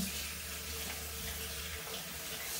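A kitchen tap runs in a steady, close rush of water into a sink while something is washed, filling the whole stretch with a constant, even hiss and a faint low hum underneath.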